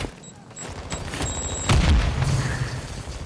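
Gunfire from Call of Duty MW2 aimed at the player comes as booming bursts of shots over busy battle noise, with a heavier thump about halfway through.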